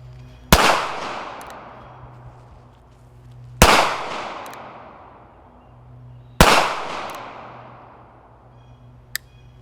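Three loud, sharp pistol shots fired at a target, spaced about three seconds apart, each with a ringing outdoor decay, followed by a faint metallic tick near the end.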